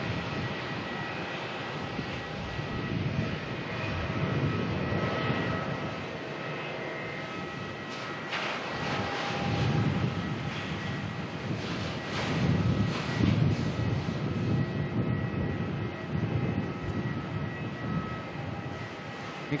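Jet airliners line up for departure at Melbourne Airport, a steady distant engine whine and rumble with tonal hums, the roar rising and falling in waves, heard alone.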